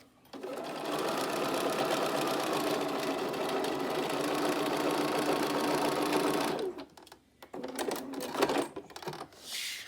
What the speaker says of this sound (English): Then we just do another line of stitching across the top of the binding.